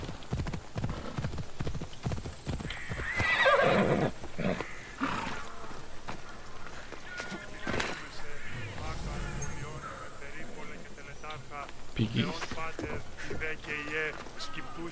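Rhythmic hoofbeats and a horse whinny from Assassin's Creed Odyssey, with a person talking over the game sounds.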